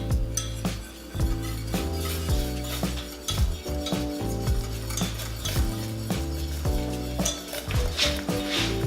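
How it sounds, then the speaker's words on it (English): Flour being whisked into a simmering vegan Cajun pasta sauce, a whisk steadily scraping and clinking against the pot in a continuous stirring rhythm, close and fairly loud, with no talking. "you want to whisk it as you add it"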